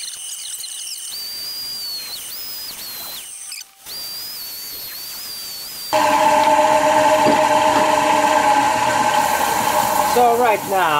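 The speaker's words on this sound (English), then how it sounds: "give it a quick sanding, starting with 80 grit," Sanding a Machiche wood platter with 80 grit abrasive: a loud, steady power-sander whine with broadband grinding that runs continuously through the second half, after quieter intermittent motor hum earlier.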